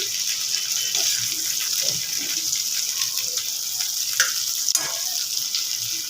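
Eggplant roasting in oil in a pan gives a steady, dense sizzle and crackle, close and continuous, with a few brief sharper pops and no talking.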